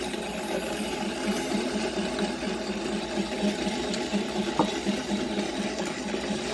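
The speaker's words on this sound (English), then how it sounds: "I got the Monolith set at 250 RPM, so it's going to take a while." Monolith coffee grinder running at a slow 250 RPM, a steady close mechanical whir with a fine rhythmic pulsing that holds evenly throughout, with no talk over it.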